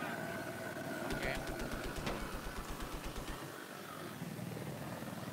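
Helicopter in Battlefield 4 on the Shanghai Conquest map, a rapid rhythmic rotor thumping with engine whine and bursts of gunfire-like clatter, heard under players talking.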